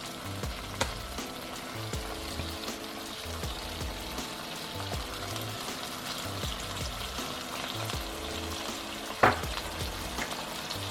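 Ground beef frying in a pan for a hamburger casserole, a steady soft sizzle with occasional scrapes and one sharp clink, close and even throughout.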